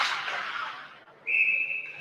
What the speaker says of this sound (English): And a quick whistle.